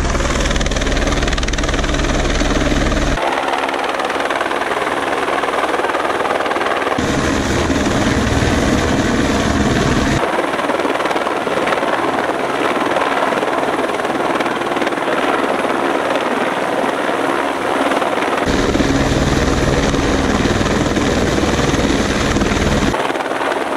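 A rescue helicopter works over a mountain, its rotor and engine thumping loud and steady throughout, the tone shifting in broad sections as it hovers and moves nearby.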